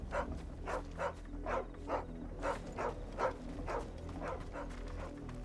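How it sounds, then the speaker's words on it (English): A dog barks in the video game Final Fantasy XVI, a series of evenly spaced, moderately loud barks repeating over a low steady background hum, with no talking. "No, that's a dog."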